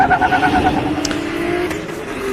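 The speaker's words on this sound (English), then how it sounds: "You see Josh leaving the line." A BMW E36 drift car pulls away from the start line at a British Drift Championships round at Teesside, its engine note droning steadily and fairly loud across the whole moment with no break.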